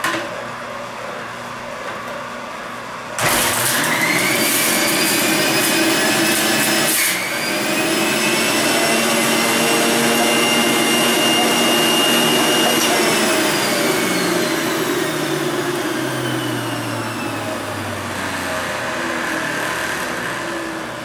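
A Breville centrifugal juicer grinds through a whole cucumber. A loud, steady high-speed motor whine kicks in after a few seconds, with shredding and a brief dip in the middle, then runs on evenly to the end, close and without talk.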